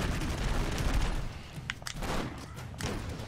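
Gunfire and thudding explosions in Broforce, a dense burst of shots and booms with a few sharp cracks, loud and continuous with no talk over it.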